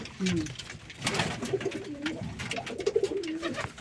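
Pigeons at a hobby pigeon farm give several close, low warbling coos in short bursts, with people talking in the background.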